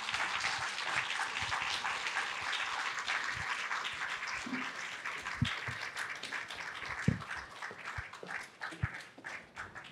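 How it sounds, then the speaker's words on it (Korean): An audience at a book talk on infertility and miscarriage at a hospital claps warmly to welcome two guests onto the stage, a dense, steady applause lasting throughout with a few louder claps standing out near the end. "여러분 뜨거운 박수로 환영해 주십시오."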